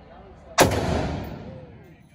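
A single loud gunshot goes off at an outdoor shooting range, a sharp crack followed by a long rolling echo that slowly fades over about a second and a half.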